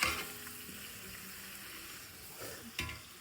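Spices roasting and sizzling in a hot pan while cooking biryani, a steady close frying hiss with a few brief stirring scrapes.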